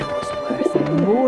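Pigeons coo in the Alice: Madness Returns video game, soft warbling calls set against a layer of game music and effects.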